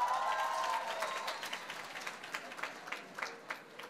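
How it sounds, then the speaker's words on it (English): Audience applause at an Equity Group Foundation gathering, a steady wash of clapping that thins into scattered, separate claps toward the end, moderately near. "can we clap for them, the ones who are in the first row?"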